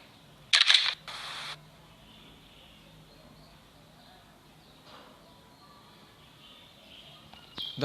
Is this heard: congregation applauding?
no